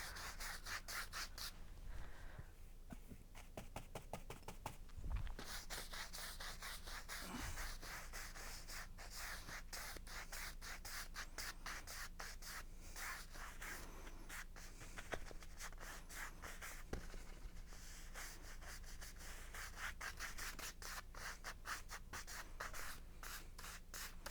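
A paintbrush scrubs brown paint onto canvas in quick repeated strokes, a soft close rasping rub that keeps up steadily with brief pauses, no talking.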